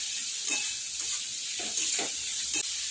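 Vegetables sizzle steadily in a pan, a continuous hiss broken by several soft scraping stirs at irregular intervals.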